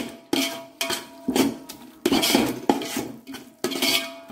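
Masala for mutton biryani being stirred and sautéed over low heat in a metal pan, with a steady run of loud, rhythmic scrapes and knocks from a ladle.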